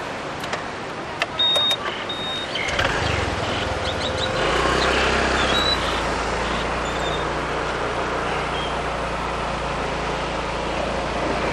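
A Honda PCX scooter on a quiet Kata Beach road in Phuket; after a couple of faint beeps the engine starts and settles into a steady, close hum with wind and road noise.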